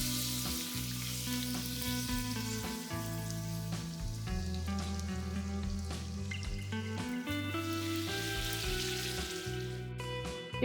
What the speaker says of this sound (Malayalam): ഇങ്ങനെ നമുക്ക് എല്ലാ പൂരിയും വറുത്തെടുക്കാം.